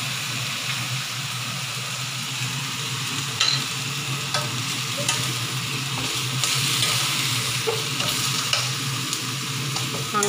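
Chicken pieces frying in a pan toward golden brown, for a chicken soup with dates and wolfberry, make a dense continuous sizzle and crackle, with occasional stirring scrapes and pops throughout, no voices.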